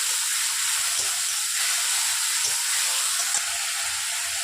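Chopped green chillies stirred in a hot pan for singara filling, giving a steady bright hiss and sizzle throughout with faint soft stirring knocks underneath.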